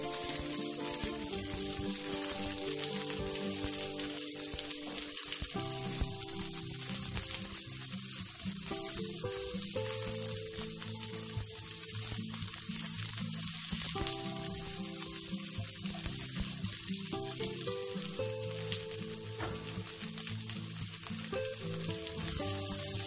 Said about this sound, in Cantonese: 就落我哋嘅洋葱